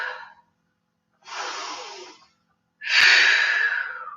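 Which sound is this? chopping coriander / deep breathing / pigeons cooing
deep breathing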